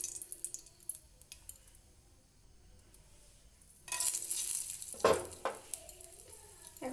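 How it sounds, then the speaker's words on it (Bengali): Whole spices dropped one by one into hot oil in a pan, a quiet scattered crackle at first that swells into a louder hiss, with a sharp clatter near the end, close, with no voices. "এর মধ্যে আমাদের যে গোটা মশলাগুলি আছে সেগুলি একে একে দিয়ে দেব।"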